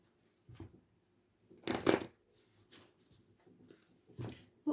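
A deck of oracle cards is shuffled close by, with soft papery riffles and slaps coming in short bursts separated by quiet pauses.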